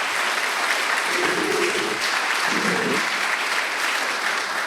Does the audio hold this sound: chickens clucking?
no